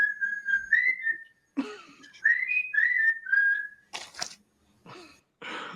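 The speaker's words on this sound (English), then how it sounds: "I was whistling." Someone whistles a TV theme tune, a bouncy tune up close, the melody running in quick phrases, then breaking off into a few breathy noises and rustles.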